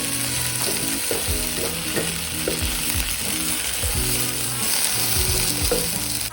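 Okra sizzles steadily as it fries in a pan, a constant close hiss broken by occasional stirring clatters and scrapes, with no voices.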